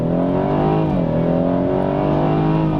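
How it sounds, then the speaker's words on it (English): A car launches hard from a standstill at full throttle, its engine climbing steadily through the revs with a brief dip at a gear change, loud and close for the whole stretch. "Gas all the way to the floor."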